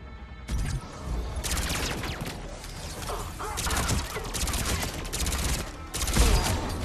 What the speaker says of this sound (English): Oh, he set up the turret right next to me?